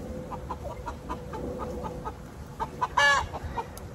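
Turkeys in breeding season call among a herd of exotic farm animals, with faint scattered clucks and gobbling over background noise and one louder, sharper call near the end.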